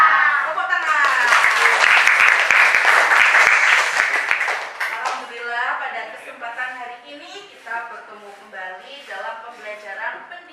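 Applause from a school audience breaks out in a dense burst of clapping for a few seconds, then thins out as children's voices and chatter take over.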